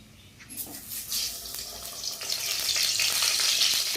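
Eggplant drops into hot oil in a wok, and a hissing sizzle swells within the first second and grows to a dense, steady, close frying roar.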